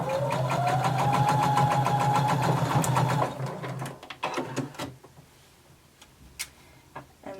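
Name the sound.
sewing machine stitching a seam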